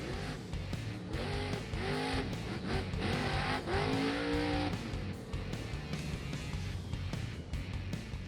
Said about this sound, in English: Adam will need to balance Gravedigger for 500 feet without the assistance of the wheelie bar normally used in competition